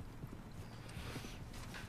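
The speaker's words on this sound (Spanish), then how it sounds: "Ahora parece que el caballo sí que nos encuentra." Horse hooves clopping in Red Dead Online as a mount arrives, soft irregular hoof falls running steadily beneath a low game ambience for a short stretch, fairly faint.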